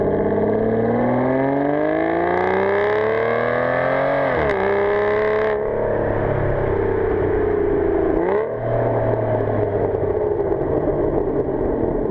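An Aston Martin DBS engine revs hard and close, climbing smoothly to the rev limiter, dropping back and rising again in loud, sustained sweeps.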